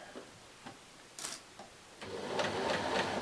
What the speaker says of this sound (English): My sewing machine tends to bounce up and down if I do it too fast.